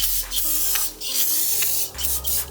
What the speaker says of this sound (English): So I can spray the brake clean